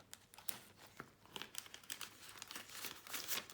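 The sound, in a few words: banknotes being taken out and handled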